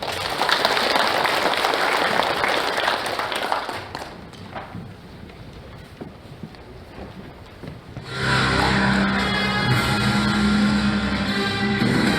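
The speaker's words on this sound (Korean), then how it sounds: "우리 장윤호 교수님 큰 박수로 한번 맞이해 주십시오." An audience bursts into loud applause to welcome a professor onto the stage at a founding ceremony, dense clapping that fades to a lull before music swells in near the end.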